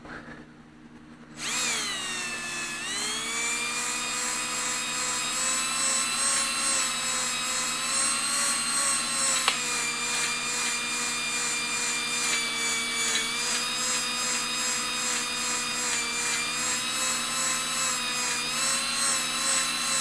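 A steady whirring hone grinds continuously against the cylinder walls of an IH 504 engine, with a rubbing, scraping texture and a slowly wavering pitch, close and loud.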